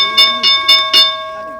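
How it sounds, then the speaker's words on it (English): A bell rings in a quick series of four bright strikes, its tone ringing on steadily underneath. "ring the bell in"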